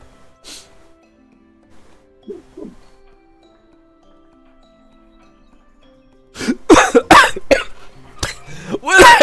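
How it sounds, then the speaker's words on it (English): A person coughs a few times in a sharp, close burst after a long quiet stretch, while playing the Golf with Your Friends video game. "I needed a cough and I actually coughed while shooting."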